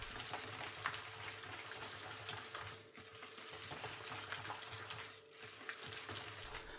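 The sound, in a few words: stirring pork dumpling filling quickly in one direction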